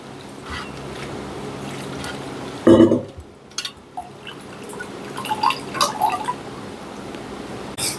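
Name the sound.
squeezing sour tamarind water out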